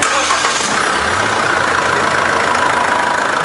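A SsangYong Rexton Sports diesel engine with about 30,000 km idles after an oil change. It gives a steady, close, even rumble with no voices.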